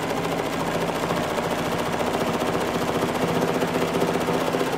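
Sewing machine stitching scribbly free-motion lines on an appliqué iris greeting card, a steady close mechanical whir with fast even needle pulses running continuously throughout.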